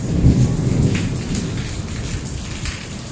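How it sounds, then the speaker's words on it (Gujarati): Heavy rain pours steadily after a sudden change in the weather, a dense constant roar with low rumbling thunder beneath it, and no voices. "આજ જો અચાનક જ વાતાવરણ બદલાણું અને વરસાદ આવી ગયો છે"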